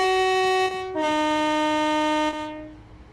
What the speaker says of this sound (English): Give our horns a honk.